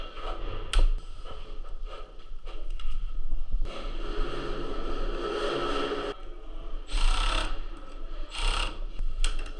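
Small pieces of wood are cut up on a commercial plumbing job with repeated rasping, scraping strokes, loud and close, in irregular bursts with short gaps between them and no talk over the cutting.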